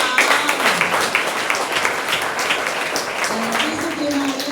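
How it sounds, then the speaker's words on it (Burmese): An audience applauds a drama troupe after a stage play, with dense, steady clapping that holds evenly throughout, mixed with crowd noise. "ပြဆက်ဖွဲ့သားတွေအားလုံးကိုနောက်တစ်ခါလက်ခုပ်တီးပြီးတော့ဂုဏ်ပြုကြရအောင်။"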